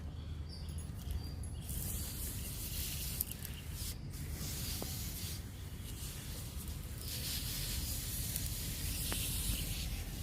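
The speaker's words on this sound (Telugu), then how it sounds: "ఈ మొక్కకి స్ప్రే చేస్తున్నా" Neem oil being sprayed onto brinjal plants infested with mealybugs, a steady close hissing spray running throughout over outdoor background noise, without talk.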